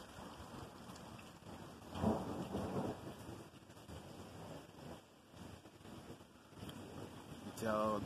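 Faint thunder rolls during a severe thunderstorm, with a low rumble building around the middle and steady rain hissing underneath the whole time.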